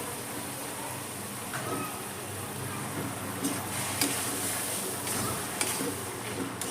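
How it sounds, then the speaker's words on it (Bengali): A spoon scrapes and stirs through a thick mixture of peas, potatoes and spices in a wok, with soft clicks and a faint sizzle over steady background hiss. "খুব ভালো করে আলুর সঙ্গে মশলার সঙ্গে মটরটা আমি মিশিয়ে নেব"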